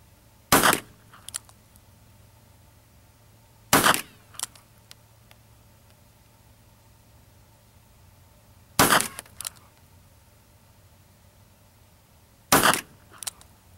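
.38 Special revolver firing 158 grain cast semi-wadcutter rounds loaded with 2.0 grains of Alliant Unique and new Winchester primers: four loud, sharp shots spaced several seconds apart, each followed by a brief echo.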